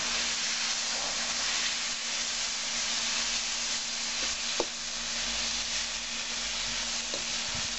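Chopped peppers, onions and tomatoes stir-fry in a pan for patio chili in Arizona, giving a steady, even sizzling hiss throughout with a single faint clink of a utensil near the middle.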